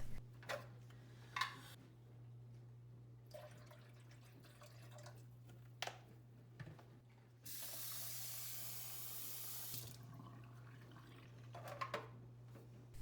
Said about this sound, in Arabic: واملاها ميه على الاخر واسيبها تغلي